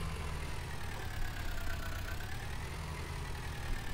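A tractor engine in the video game Farming Simulator 19 idles and chugs steadily with a deep, continuous low rumble and faint whine, constant in level with no talk over it.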